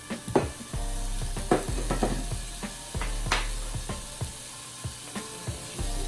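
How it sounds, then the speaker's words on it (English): Ground meat for soft tacos browns in a pan with a constant loud sizzle, broken by repeated sharp scrapes and clacks of a utensil breaking it up, close and with no speech. "Let's go ahead and start browning our ground meat."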